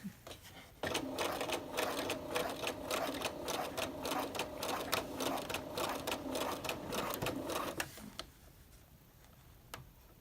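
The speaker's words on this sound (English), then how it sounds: "And I'm going to sew right off where that line is and where my pin is." Sewing machine stitching a dart in fabric, a fast steady mechanical rattle running for about seven seconds before stopping, followed by a few isolated clicks in quiet.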